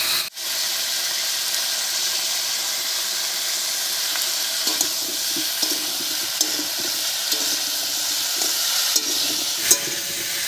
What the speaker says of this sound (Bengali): এই অবস্থায় বেশ কিছুক্ষণ রান্না করে ফুলকপি আর আলুটাকে একটু ভাজা ভাজা করে নেব।